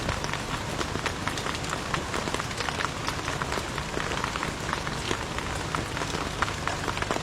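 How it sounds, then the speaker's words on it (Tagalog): Heavy rain pouring steadily on a riverside campsite, a dense, continuous hiss of drops with sharp patters on nearby surfaces, loud and unbroken throughout. "Ang lakas ng ulan"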